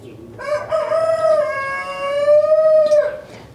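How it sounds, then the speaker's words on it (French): A rooster crows one long, loud, close call that rises, holds its drawn-out note for a few seconds, then breaks off, with no voices over it. "Quand les coqs chantent"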